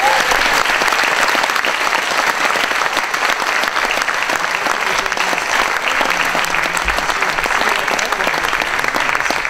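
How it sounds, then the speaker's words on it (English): An audience at a political debate applauds candidates Jim Hagedorn and Dan Feehan with loud, dense, sustained clapping that keeps an even level throughout. "Can we give them a round of applause?"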